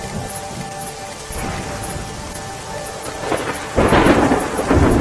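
Heavy rain pours steadily in a rural Gujarat village while rumbling thunder rolls underneath, swelling louder and closer toward the end, with no one speaking.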